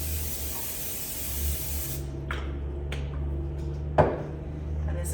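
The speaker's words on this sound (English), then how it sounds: "I'm just gonna give that a little spray." Cooking spray hissing onto a sheet pan in a kitchen, a few short close bursts over a low steady background hum.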